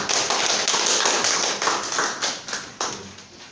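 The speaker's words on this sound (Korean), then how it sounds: "우리 축하 박수 한번 쳐주실까요?" A church congregation claps in celebration during a Sunday service, a steady burst of applause that thins out and fades toward the end.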